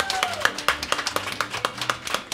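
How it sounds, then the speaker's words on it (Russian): Audience applause for musicians after a live performance during a Russian rock radio broadcast: brisk, uneven clapping that keeps a loose rhythm from start to finish, with faint tonal sound mixed underneath. "Еще раз аплодисменты!"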